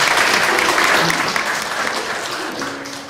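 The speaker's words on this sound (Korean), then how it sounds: "우리 선우섭 선교사님께 감사의 박수를 드리도록 하겠습니다" A church congregation at a Japanese-language worship service claps in thanks for a missionary, a dense, steady wash of applause that fades slightly toward the end.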